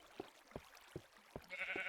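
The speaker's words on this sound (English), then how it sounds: "we gotta go kill that sheep real quick" A Minecraft sheep bleats in short repeated calls, about five brief evenly spaced bleats in quick succession, with a brighter game tone chiming in near the end.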